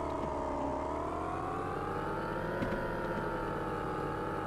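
A car engine in the video game Auto Sale Life hums and whirs steadily at close range, holding a constant mid-pitched drone with slight rises.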